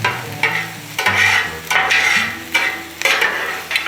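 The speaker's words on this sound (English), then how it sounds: "while we're neglecting our hash browns and cooking our Holy Trinity, our onions and peppers and ham" Onions, peppers and ham cook on a Blackstone griddle with a continuous sizzle, broken by several loud, rough scraping strokes that come at fairly regular intervals.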